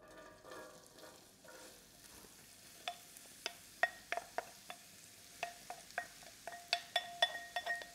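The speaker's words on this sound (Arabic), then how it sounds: "من اسرار الطبخ المرق اللي بيبقى مسبك اني انا اقلب البصل قد ما فيني ياخذ وقت على النار" Chopped onions fry in a generous amount of oil in a pot, a soft low sizzle beneath repeated crisp clinks and scrapes as a spoon stirs them, close and quiet with no voices.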